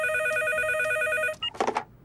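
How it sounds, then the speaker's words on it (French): An old-style telephone bell rings steadily with bright repeating tones for over a second, then cuts off as a voice briefly speaks. "Téléphone."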